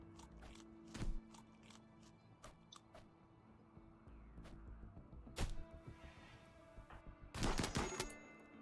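Gunfire in the video game Rimworld: scattered sharp shots at irregular intervals, some isolated and some in quick clusters, with a louder burst near the end over a steady background hum.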